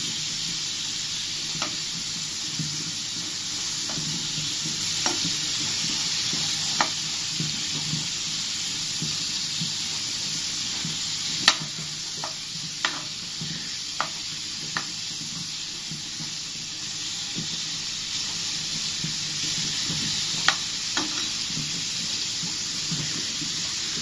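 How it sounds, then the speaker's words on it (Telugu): Salted dry fish frying in a little oil in a pan, a steady bright sizzle throughout, punctuated by sharp clicks and taps of a utensil against the pan, close with no talking. "ప్యానులో కొద్ది నూనె తీసుకొని ముందుగా ఉప్పు చేపలని వేగించాలి."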